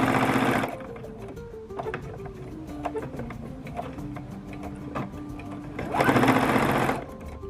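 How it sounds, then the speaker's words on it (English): A sewing machine top stitches the outer edges of a collar, with loud bursts of fast motor whirring at the start and end and quieter, slower stitching ticks in between, close by, with no talk. "now I'm just gonna top stitch the outer edges of the collar"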